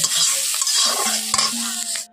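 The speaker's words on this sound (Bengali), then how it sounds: "এখন এখানে ক্যাপসিকামগুলো ভাজছি।" Capsicum frying in a pan, with a loud sizzle and stirring scrapes as the pieces are moved around, and a faint clink near the end.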